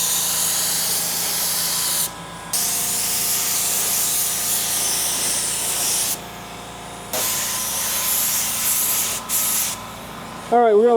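Spray gun laying a mid-coat pearl paint coat, with a loud continuous hiss in long bursts broken by brief pauses and trigger releases, and voices faintly audible underneath.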